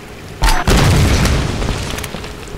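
A grenade launcher round explodes in the Tomb Raider video game, a sharp loud blast followed by a deep rumbling boom that slowly decays over two seconds.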